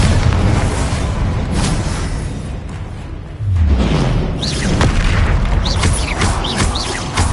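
Confringo and Bombarda spell explosions in Hogwarts Legacy combat, a loud, close barrage of booming blasts with a fresh heavy impact midway and sharp magical whooshes and pops layered over the rumble.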